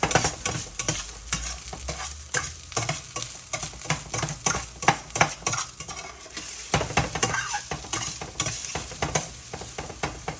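Rice and tofu stir-fried in a pan, with a steady sizzle and frying hiss broken by repeated scraping and clattering strokes of a utensil against the pan, close and continuous throughout.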